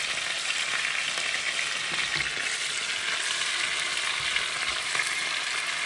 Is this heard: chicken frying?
yes